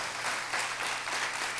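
A church congregation applauds in a steady, dense wash of clapping hands that fills the room from start to finish, with no speech over it.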